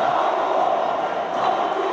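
Volleyball arena crowd at the African championship final cheering for Al Ahly against Tunisia's Mouloudia Bou Salem: a loud, steady roar of many voices filling the hall throughout, with no single voice standing out.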